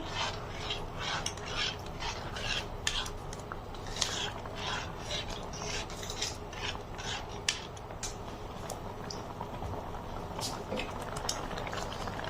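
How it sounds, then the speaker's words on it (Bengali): Carrot soup thickened with cornflour bubbles steadily in the pot while a spoon rasps and scrapes through it in quick repeated strokes, close, with a faint voice underneath. "কর্নফ্লাওয়ারটা দিয়ে ঘন ঘন নাড়তে হবে তা না হলে তলানিতে লেগে যেতে পারে"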